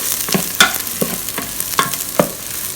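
Ginger, spring onion and garlic frying in a pan while being stirred, a soft sizzle with several distinct scraping strokes in an irregular rhythm, close and alone without talk.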